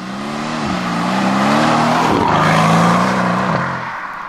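A Mercedes C63 engine revs and accelerates nearby with a rising, swelling roar, loud and continuous over about four seconds, with no talking.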